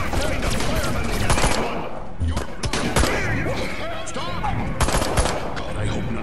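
Rapid bursts of alien weapon fire from the Destroy All Humans video game rattle loudly through the whole stretch, dense and continuous with mixed crashes.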